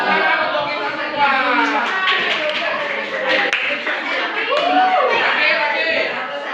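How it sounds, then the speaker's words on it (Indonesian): A class of schoolchildren claps together for everyone, a brisk patter of hands mixed with children's chatter and a teacher's voice, close and lively in a classroom. "Tepuk tangan untuk kita semua."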